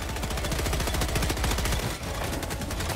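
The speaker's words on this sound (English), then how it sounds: "We're all shooting at him." Intense automatic gunfire in the co-op shooter Helldivers 2, rapid loud bursts of shots stacking into a continuous rattling barrage from several weapons firing together, with only a brief dip near the middle.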